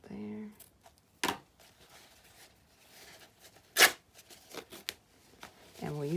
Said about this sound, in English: and cut it right there.